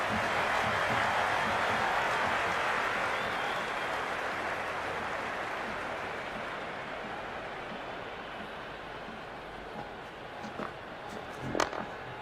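A cricket stadium crowd at a T20 World Cup final between India and Pakistan sends up a dense, sustained roar that slowly eases off, with a few brief sharper bursts near the end.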